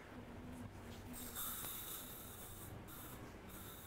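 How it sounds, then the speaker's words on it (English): A disinfectant spray can hisses in short bursts at an outdoor restaurant dining setup, faint hissing jets that start and stop over a steady background noise. "Gonna get our disinfectant spray"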